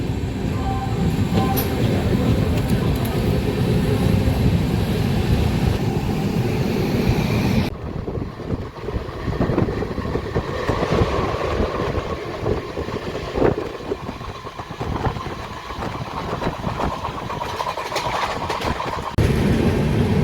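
Steady rumble of the Charminar Superfast Express passenger train leaving Gudur station, with rattling carriages and wind buffeting the microphone, loud and continuous throughout.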